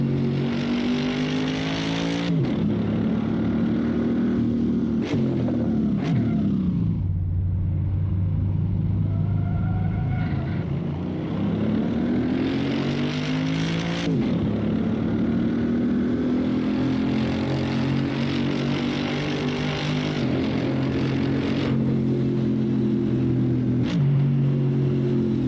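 Mercedes and Porsche race cars in the Assetto Corsa racing game: a steady, loud engine drone rising and falling through gear changes, dropping sharply under braking before revving back up for nearly the whole stretch, with no voices.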